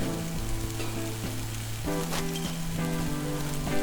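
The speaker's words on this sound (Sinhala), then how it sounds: "තියාගත්ත තිබ්බටු ටික මේ විදිහට අපේ ටෙම්පරාදුවකට එකතු කරගන්න ඕනේ." Small thibbatu eggplants frying in a hot tempering, a steady loud sizzle with crackling bursts throughout, close and alone.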